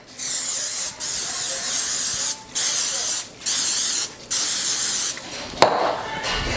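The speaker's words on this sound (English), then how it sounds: "Gotta spray it really good." Cooking spray hisses into a hot baking pan in five or six firm bursts separated by short pauses, then a clatter of the can or pan follows at the end.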